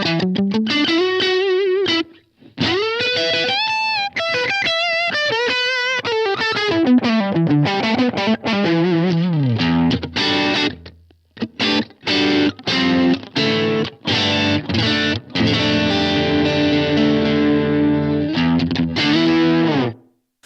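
An electric guitar played through a Blackstar AMPED 1 pedal amp with distortion, completely dry with no reverb or delay, as a loud close riff of sustained chords and quick staccato phrases.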